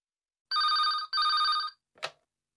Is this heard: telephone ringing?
yes